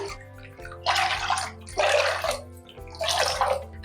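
Water is poured into a cooking pot from a cup for sago and vermicelli payasam, in three separate splashing pours with short gaps between them, close and fairly loud over a low background hum.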